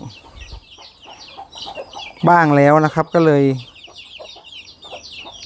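Chickens two to three months old in a large farm coop: soft clucking in the background, then one loud, drawn-out call lasting about a second and a half, while someone talks.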